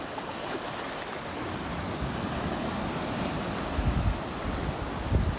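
Sea waves on the Salento coast wash in continuously with wind rumble, loud and close, with a couple of heavier surges near the end and no talk.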